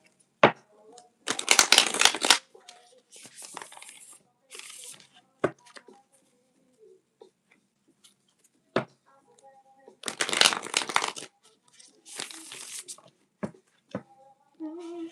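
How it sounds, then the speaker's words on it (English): Repeated bursts of tarot card shuffling, each a rapid riffling flutter lasting a second or two, separated by pauses with occasional soft taps and faint murmurs. "Let me do one more shuffle."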